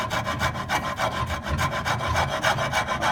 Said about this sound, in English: I'm filing down to the line,